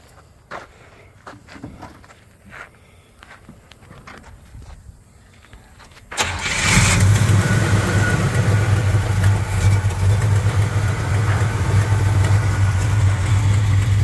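Faint shuffling and clicks, then the 350 V8 engine of a 1971 Buick Skylark fires up abruptly and settles into a loud, deep, rumbling idle that continues steadily.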